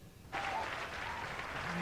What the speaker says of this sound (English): Just giving you a round of applause there as well.